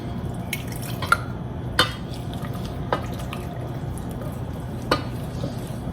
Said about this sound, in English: Stir stirring really carefully to be sure it's all blended.